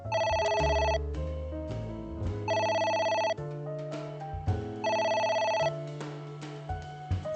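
A telephone rings in the video game AI: The Somnium Files, its electronic bell repeating in regular bursts, loud and close, with no talk over it.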